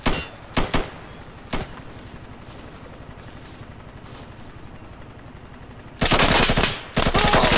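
Automatic gunfire in the co-op shooter game Insurgency, with a few sharp shots early on, then a long loud sustained burst of suppressing fire near the end over a low background rumble.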